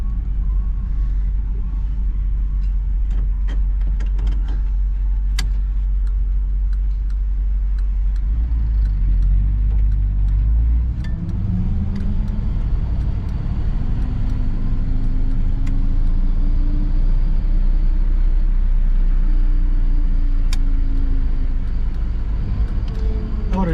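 A 1959 Chevrolet Bel Air with a 348 V8 and a Rochester 4-Jet carburetor drives along with a loud, steady rumble, then its engine winds out with a rising, droning pitch as it accelerates. Road noise sits underneath.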